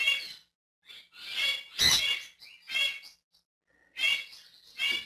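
A young pet sun conure named George gives a series of harsh, raspy squawks and chirps in short bursts with brief pauses, fairly close and alone.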